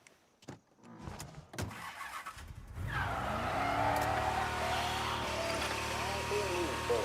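Car engine in the video game Mafia, starting with scattered clatter and thumps before a steady engine drone and road rumble settle in, held loud and close with a faint whine over it.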